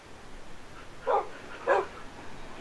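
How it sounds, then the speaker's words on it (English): Two distinct dog barks from Minecraft dogs (tamed wolves) on a multiplayer server, spaced about half a second apart, moderately loud over a faint game background with no talking. "all your dogs aren't even teleporting to you"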